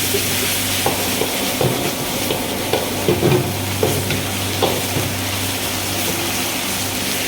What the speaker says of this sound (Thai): ผัดจนกว่าเครื่องแกงอันเนี้ยจะแตะน้ำมันนะครับ